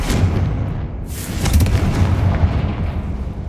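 A Confringo fire-spell blast in Hogwarts Legacy, a loud booming burst with a crackling, rumbling tail that surges again midway, with no voices over it.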